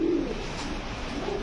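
Pigeons coo softly and steadily nearby, a low continuous murmur among domestic racing and fancy pigeons in a loft, heard on their own without talk.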